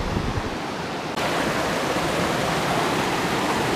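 A loud, steady roar of rushing river water fills the clip, broadband and unbroken, with no talking.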